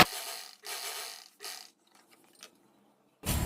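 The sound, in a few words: sewing machine stitching a double stitch on a dress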